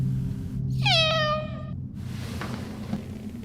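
A single drawn-out cat meow, close and clear, rising then falling in pitch, followed by a quiet low room hum.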